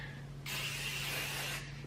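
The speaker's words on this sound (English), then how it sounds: "we are going to take the hairspray, like I said before. Same steps, you just spray it throughout the bottoms of your hair" Hairspray sprays from a can onto the bottom lengths of hair in one steady hissing burst of about a second, close and even, with quieter room tone before and after.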